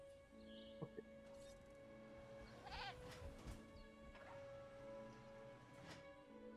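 A small goat in a video game lets out a wavering bleat midway through, with a couple of fainter bleats before and after, set over a steady hum of game ambience and music tones.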